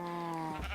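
A single short, wavering bleat from a sheep in the Minecraft video game, loud and close, with no talking over it.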